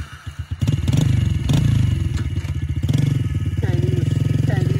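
110cc motorcycle engine starting up and revving, a close, loud rhythmic chugging that rises and settles, with people talking over it.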